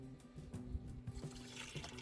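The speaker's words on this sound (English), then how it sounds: "and water comes out and then goes down into the gray water." Water from a foot pump at the sink of a low-roof DIY camper van runs in a faint, steady trickle that drains down into the gray water tank.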